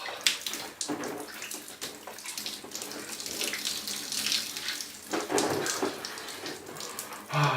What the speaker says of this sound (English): Oh, what a great shower.